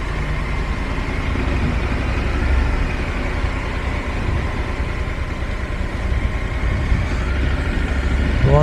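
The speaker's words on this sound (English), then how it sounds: "Oh, fire engine." A fire engine idles nearby on a road near Land's End, a steady low diesel rumble that holds evenly throughout with slight swells in loudness toward the end.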